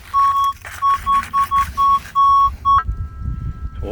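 A metal detector sounds a loud run of high electronic tones at a farm dig site, several short beeps in an uneven rhythm, then one long held tone before it cuts off.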